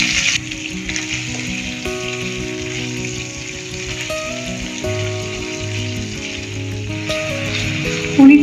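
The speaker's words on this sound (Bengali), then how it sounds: "পনিরটা কিন্তু এক্ষেত্রে একটু মানে কড়া কড়া করেই ভাজবো" Paneer fries in a pan with ghee, salt and Kashmiri red chilli powder, a continuous soft sizzle running under steady tonal background music, with a brief louder clatter at the very end.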